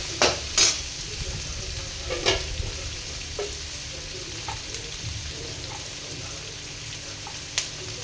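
Vegetables for Hakka noodles stir-frying in a pan, a steady sizzle with a few sharp utensil scrapes and taps, close by and with no talk.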